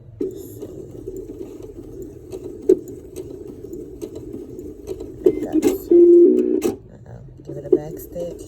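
A sewing machine back stitches a mask lining, its motor giving a steady close hum that swells into a louder run near the end, with a voice talking over it.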